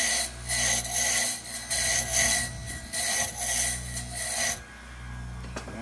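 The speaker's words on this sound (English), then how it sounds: "the rest of it I do with the gouge" A gouge shapes a wooden pen holder spinning on a lathe, producing repeated loud raspy scraping strokes in a steady rhythm that stop near the end, leaving a quieter motor hum.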